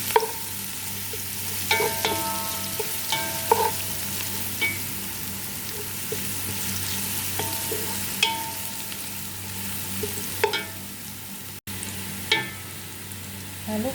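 Crushed garlic and ginger frying in a pan for chicken maqlubah, a steady close sizzle with intermittent scraping and stirring clicks throughout, no voices.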